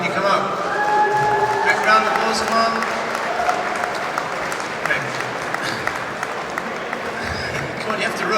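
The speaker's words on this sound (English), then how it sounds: "Big round of applause, come on." Sustained audience applause fills an awards ceremony at a robotics forum banquet, steady and fairly loud with voices and cheering mixed into the crowd noise throughout.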